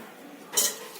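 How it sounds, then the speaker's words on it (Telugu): A metal pot is set down inside a pressure cooker while making junnu, a sweet milk pudding from colostrum, giving one short, near clink and scrape of metal on metal against a quiet kitchen. "దీన్ని ఇప్పుడు మనం కుక్కర్లో పెట్టుకుందాం."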